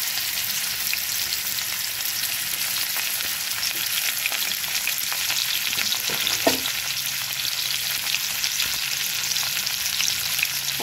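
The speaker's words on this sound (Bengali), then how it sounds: "প্রথমে আমি তেলটা গরম হয়ে গেছে, কড়াই করলাগুলোকে ভেজে নেব।" Bitter gourd fries in hot mustard oil in a wok, giving a steady, loud hiss of sizzling with a brief stir or clatter midway and no voices.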